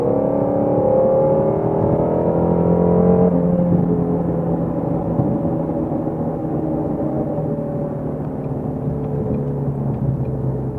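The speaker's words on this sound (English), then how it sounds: "Exhaust sounds a lot better when it's cold outside." A Ford Mustang GT350 exhaust in cold Michigan weather rumbles loud and close, a deep engine drone that shifts pitch early on as if through downshifts, then settles into a steady throaty growl with no talking.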